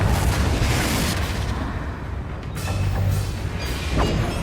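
Confringo fire spell explosion in Hogwarts Legacy, a loud rumbling blast with a sustained roar that dips and then swells again, dense and booming throughout.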